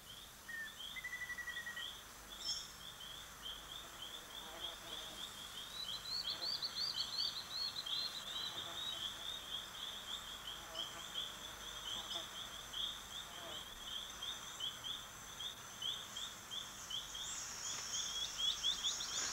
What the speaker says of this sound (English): Predatory ant birds accompany the swarms, feeding on flushed out insects.